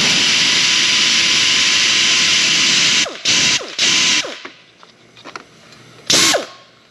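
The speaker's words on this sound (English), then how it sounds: "So I need to take this 10mm bolt out for the oil dipstick." Ratchet loosening a 10mm bolt on the oil dipstick tube during engine removal from a Chevy Colorado, Hummer or GMC Canyon, heard as a few short bursts of clicking after a long steady mechanical hum.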